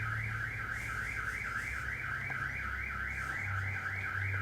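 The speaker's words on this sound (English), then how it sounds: "Only luck we have is when we accidentally set off the Empire's hotel alarms" An alarm sounds inside the Empire Hotel, a steady warbling electronic siren that wails up and down without pause, loud and continuous, over a low background hum.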